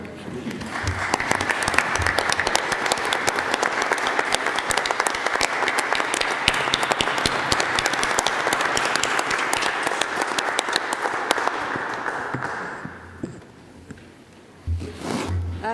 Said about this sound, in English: if I could ask everyone to join me in a round of applause for these young men.